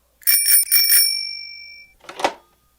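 A bright telephone bell rings in a quick burst of four strikes that fade out, followed by a short rattling ring, loud and close.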